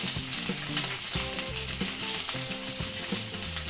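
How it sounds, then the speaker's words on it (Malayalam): Sliced coconut pieces crackle and sizzle in hot oil, a dense, continuous frying hiss with small pops, close and without voices. "അത് നൈസായിട്ട് ഇതുപോലെ അരിഞ്ഞിട്ട് തേങ്ങാക്കൊത്തിട്ട് നല്ലോണം ഒന്ന് ജസ്റ്റ് ഒരു ഫ്രൈ ചെയ്തെടുക്കുക"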